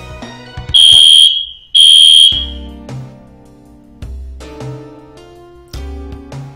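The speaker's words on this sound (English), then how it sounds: "Do you need a fire alarm that sounds like this?" A fire alarm test rings during play of Breath of Fire 3, two loud, piercing high electronic beeps of about half a second each, set among lower tonal game music notes.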